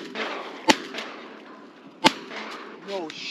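Two sharp shotgun blasts about a second and a half apart ring out while duck hunting from a sneak boat in a flooded corn field, loud and close over outdoor ambience and low voices.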